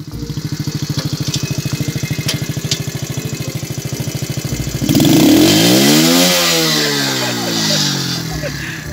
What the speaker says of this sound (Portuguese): Quando tá em alta, ela faz um barulho que... como se tivesse coisa solta dentro